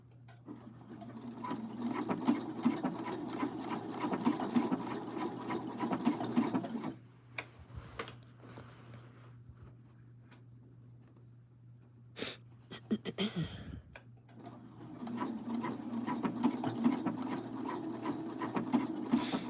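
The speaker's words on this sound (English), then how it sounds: "when you're doing a blind hem, you'll notice that the stitch is stitching on this little piece, is stitching, stitching, stitching" A sewing machine stitching a blind hem runs in a steady rapid whir close by, pauses for several seconds with small clicks, then starts up again.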